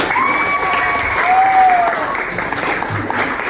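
Indonesian seventh-grade classroom applause during a language lesson, a steady wash of clapping with children's voices and shouts mixed in, fairly close and moderately loud throughout.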